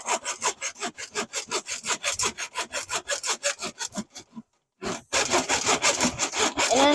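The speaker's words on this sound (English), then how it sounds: "We're trying to snake it." Rhythmic rasping strokes, close and steady, from a plumber's snake worked in a slow-draining sink, with a brief pause before the scraping resumes more continuously.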